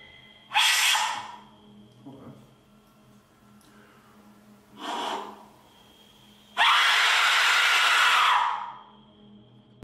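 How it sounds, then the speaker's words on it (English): An Aztec death whistle lets out piercing, breathy screams in short bursts, the last one loudest and longest, with quiet pauses between blasts. "now it's time for a scream with an Aztec whistle"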